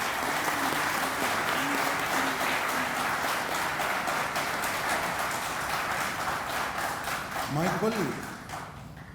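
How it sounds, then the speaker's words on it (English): Thunderous audience applause welcomes the chief guests at a PGDM induction and orientation program, a dense, continuous wash of clapping that eases off near the end as a voice briefly rises. "join me with a thunderous applause to welcome our chief guest, our guest of honor, our esteemed chairman and director"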